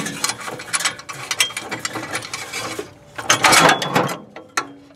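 Ratchet wrench turning a bolt on a car's water pump, a rapid run of loud mechanical clicks and ratcheting bursts from close by, pausing briefly before a heavier burst of clicking near the end.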